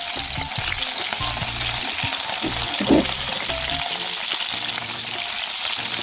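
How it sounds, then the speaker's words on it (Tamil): Brinjal fries in hot oil for a kuzhambu, giving a steady, dense sizzle throughout, with soft scraping knocks as the pieces are stirred in the pan. "ஒரு 3 நிமிஷம் நல்லா எண்ணெய் வதக்கினாங்க"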